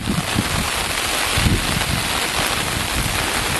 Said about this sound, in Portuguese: Ó, a chuva.